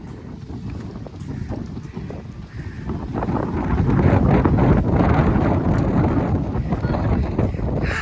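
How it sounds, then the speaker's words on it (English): Wind gusts roar across the microphone, building in strength and rushing steadily for several seconds, with faint footsteps and breathing underneath. "It's always windy here, windy corner."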